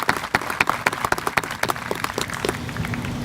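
Audience clapping at a park dedication ceremony, a burst of scattered claps that thins out over a few seconds, heard from within the crowd.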